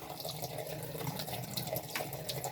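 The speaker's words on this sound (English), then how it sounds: "this is running water, the blade resting fairly lightly" Water runs steadily over a coticule hone while a straight blade rests lightly on the stone, a continuous soft hiss and trickle with no speech.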